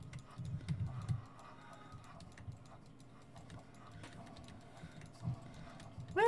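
Rapid, light keyboard typing during a World Zero game session, faint, irregular clicks running through the whole stretch over a low background hum, with a brief louder burst at the very end.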